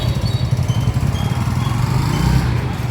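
A motorcycle engine runs steadily nearby, its low throbbing rumble holding at a constant level with a slight rise toward the end, and no voices.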